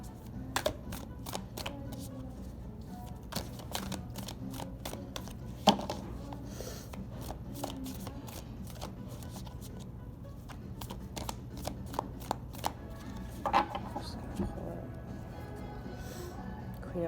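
Tarot cards are shuffled and drawn in a quiet room, giving a series of sharp riffling flicks and snaps scattered irregularly over a low steady background hum.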